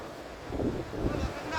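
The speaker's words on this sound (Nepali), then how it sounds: "हावा त्यस्तै मिठो चलिरहेछ हो" Wind blowing beside a mountain river near the Gyaman Bridge in the Darjeeling hills, heard as a steady, fairly close rush of breathy noise buffeting the microphone, swelling slightly in gusts.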